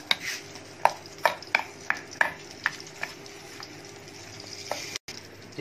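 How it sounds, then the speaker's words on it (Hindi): A spoon mashes boiled potatoes with spices in a pan, giving about a dozen sharp, evenly paced scraping taps of metal on cookware, close and distinct, with a soft background hum between strokes. "और हम इसको बॉयल आलू को मसाले समेत अच्छे से मैश कर लेंगे।"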